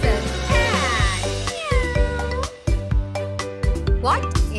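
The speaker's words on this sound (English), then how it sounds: "Oh, that's a cat." A cat meows repeatedly in a loud, close series of drawn-out, pitch-sliding cries with short gaps between them, heard alone.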